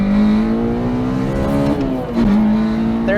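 K20-engined Toyota MR2 Spyder accelerating hard in second gear on a freeway: a loud, steady engine drone climbing in pitch, a brief dip around a shift, then pulling again, heard from inside the car without talk.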